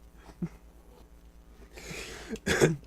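A few rough bursts of coughing or throat clearing, the last one loudest and closest, with quiet gaps between.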